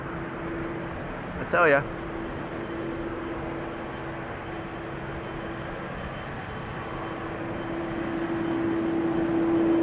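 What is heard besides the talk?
KLM Asia Boeing 777 airliner departing Amsterdam Schiphol Airport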